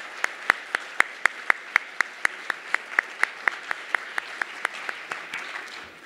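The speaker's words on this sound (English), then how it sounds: "let us hear a round of applause for all the high school teachers here with us this evening" Clapping at an awards ceremony for high school teachers comes as sharp, evenly spaced claps in a steady rhythm of about four per second, fairly loud and close, continuing throughout.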